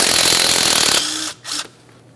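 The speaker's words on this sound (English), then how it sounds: "we'll be using a 12 millimeter to remove the mounting bolt" A 12 millimeter wrench is likely an air ratchet, buzzing loudly as it spins out a strut mounting bolt on a Toyota Sienna. The buzz stops after about a second, then gives a short final burst.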